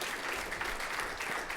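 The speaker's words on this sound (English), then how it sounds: "Can everyone give Cleo a round of applause for helping me out?" An audience at a magic show claps for a volunteer helper, a short, even burst of applause at moderate loudness with no voices over it.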